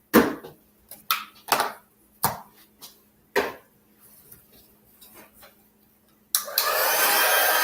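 A heat embossing tool switches on at the end with a steady, loud broadband whoosh like a hair dryer while embossing a card, after a series of sharp taps and clicks from handling craft supplies.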